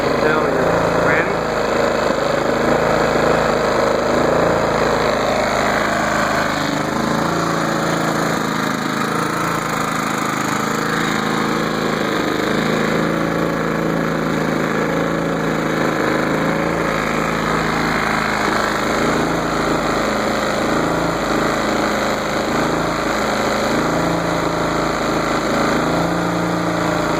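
A Generac iX2000 inverter generator idles down in eco mode, a loud steady close engine drone with a constant buzzing hum that runs unbroken throughout, a voice talking over it.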